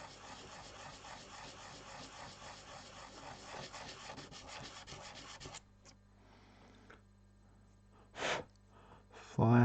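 Sandpaper rubs in quick back-and-forth strokes across hard plastic model parts for about five seconds, then falls quiet apart from a few faint handling noises and one short louder scrape near the end.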